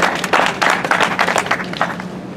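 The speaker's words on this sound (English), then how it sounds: "Give him a round of applause." Audience applause at a university science march rally welcoming Arizona state senator Juan Mendez to speak, a dense, steady wash of many hands clapping outdoors, fairly loud and sustained throughout.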